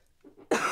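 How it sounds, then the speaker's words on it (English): A single sharp cough from a sick man, close to the microphone and loud. It bursts out suddenly after a brief quiet breathy lead-in. "I got a cough though."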